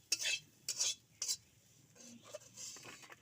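Fried prawns and green plantain slide out of a pan, with a few quick close scrapes and clinks of a utensil against metal and a faint sizzle between them.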